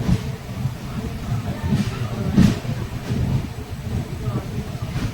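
A passenger train on the Thiruvananthapuram to Kanyakumari line rumbles along steadily, with a low, continuous rolling drone and some wind buffeting, and a voice briefly audible.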